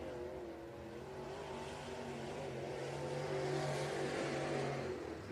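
Race cars lap a dirt oval at Senoia Raceway in Georgia, their engines holding a sustained roar and drone at a distance, swelling slightly as the pack comes by.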